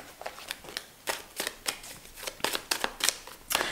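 Tarot cards are shuffled and drawn in a run of quick, papery riffles and flicks, a dozen or so sharp close bursts spaced irregularly, with no voice over them.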